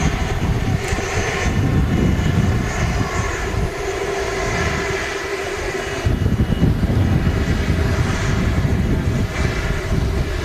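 Kuwait Airways Airbus A330 airliner taxiing nearby at a windy Manchester Airport, a steady loud engine rumble and whine with gusty wind noise and no talking.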